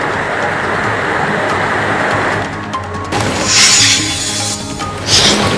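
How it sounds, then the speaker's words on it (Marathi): Heavy rain pours down steadily across Kolhapur, a loud broad hiss that swells and fades, with a few sharper splashing bursts toward the end. "कोल्हापुरातील अनेक भागांमध्ये मुसळधार पावसानं हजेरी लावली आहे"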